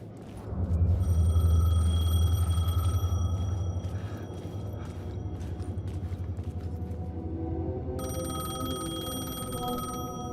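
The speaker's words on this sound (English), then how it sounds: "The payphone was ringing." A payphone in Alan Wake 2 rings with a steady electronic tone, then stops and resumes after a pause, over a low rumbling ambience.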